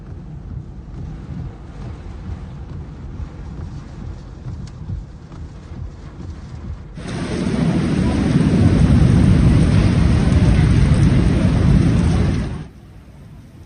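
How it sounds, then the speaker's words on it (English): Heavy rain and wind roar during a storm in Mecca, Saudi Arabia, a steady wash that swells sharply louder midway, then cuts back to a quieter background. "The video clips also recorded rain accompanied by wind and lightning, torrential water pouring down the street"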